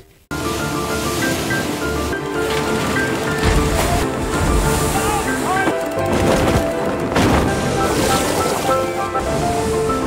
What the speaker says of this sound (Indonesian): Tom sengaja membentangkan layar agar kapal miring dan jatuh ke air.